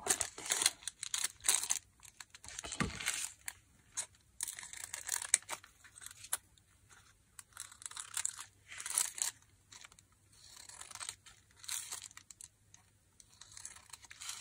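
Thin paper torn and crumpled while making paper flowers, close and crisp bursts of crinkling and ripping in uneven clusters separated by short quiet gaps.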